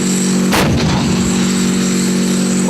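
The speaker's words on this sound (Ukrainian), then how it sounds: "Один за одним лунають гучні постріли" A single heavy tank cannon blast booms out, its deep rumble rolling away over a steady engine hum.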